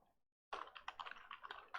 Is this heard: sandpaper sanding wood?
no